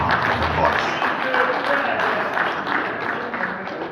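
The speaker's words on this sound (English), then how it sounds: "Give him a big round of applause." Applause from an audience at a political party interactive session, broad and steady for about four seconds, with a voice speaking over it.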